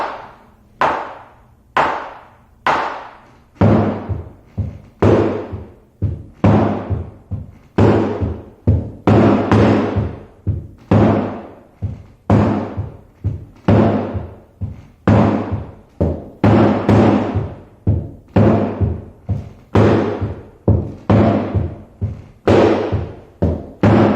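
Standing drums play a steady repeated beat pattern of sharp, close hits, with a deeper low layer joining after a few seconds and continuing evenly to the end.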